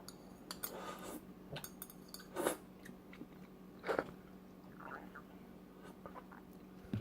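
Strawberries eaten with a thin, watered-down strawberry jam, giving scattered soft bites, chews and light utensil clicks at close range, with a few louder crunchy bites standing out against quiet background hum.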